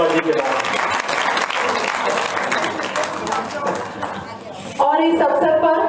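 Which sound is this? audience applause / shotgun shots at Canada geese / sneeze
audience applause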